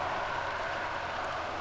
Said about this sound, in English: It is very definitely raining.